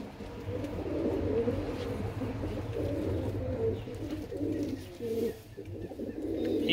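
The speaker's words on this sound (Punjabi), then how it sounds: "ਇੱਕ ਚਿਟੀਆਂ ਅੱਖਾਂ ਦਾ ਬੱਚਾ ਦੇਖੋ ਕਬੂਤਰੀ ਹੈ" Pigeons coo with soft, repeated throaty rolls close by, a low rhythmic warble running throughout in a loft of kept birds, with faint background noise.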